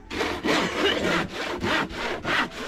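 A hand saw cuts steadily through wood, close and loud, with rhythmic back-and-forth rasping strokes.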